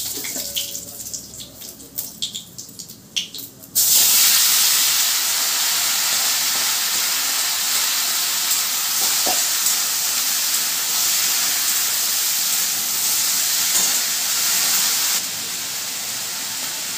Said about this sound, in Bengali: সামান্য সরষের তেল দিয়ে দিলাম। একটু গোটা জিরে দিয়ে দেবো ফোড়নে।